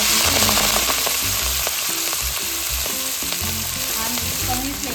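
Washed fenugreek greens hit hot oil spiced with turmeric, red chilli and crushed green chilli, giving a loud, steady sizzle with stirring scrapes, close and continuous with no voices.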